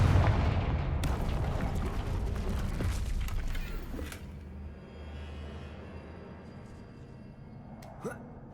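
Confringo spell blasts go off in the Hogwarts Legacy video game: a heavy explosion opens, sharp booming bursts follow about a second and three seconds later, and the sound then fades into a low rumbling tail.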